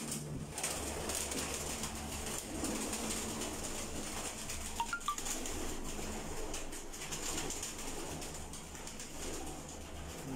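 Pigeons coo softly inside a loft at a pigeon-flying gathering in Faisalabad, their low murmuring calls faint and steady against a quiet background with a few brief flutters.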